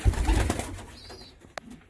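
A pet pigeon in an indoor coop coos softly at close range, a low, rolling call, followed by faint rustling and a sharp tap.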